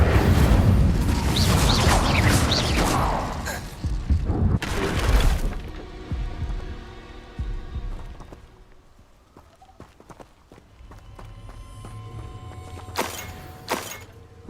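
Spell effects from the video game Hogwarts Legacy: a loud burst of magical whooshing and fiery crackle, a second blast, then quieter ringing shimmer and lingering tones, ending with another short bright flare.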